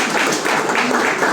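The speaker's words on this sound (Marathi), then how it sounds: "एकदा जोरात टाळ्या होऊन जाऊ द्या" Audience applause at a magazine launch ceremony, a dense, steady wash of clapping from a crowd filling the whole short moment, loud and close, with no speech over it.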